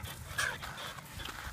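A lost brown dog panting close by in rapid, soft breaths, with a brief whimper.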